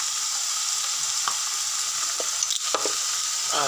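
Spices with salt and turmeric sizzling in a hot pan, a steady close hiss of frying oil broken by occasional scrapes and taps as the mixture is stirred.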